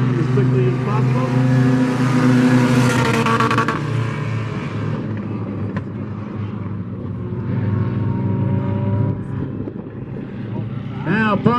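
Mini stock race cars roar around a raceway during a heat race, with a loud, continuous drone of several engines that shifts in pitch as the cars pass. A commentator talks over the engine noise.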